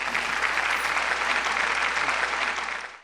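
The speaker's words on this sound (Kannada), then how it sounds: "ಚಪ್ಪಾಳೆ ತಟ್ಟಿ ಪ್ರೋತ್ಸಾಹಿಸಿ ಆನಂದಿಸಿ" Sustained audience applause at a ladies' club gathering in Gadag, dense steady clapping from a crowd that holds level for about three seconds before tapering off at the end.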